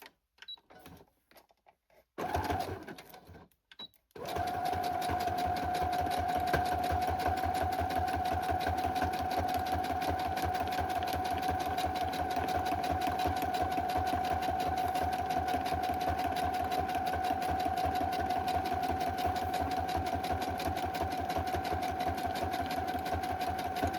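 A sewing machine runs a zigzag stitch along a fabric row for journal covers. After a few seconds of short starts and near silence, it settles into a continuous close hum of rapid, rhythmic needle ticking.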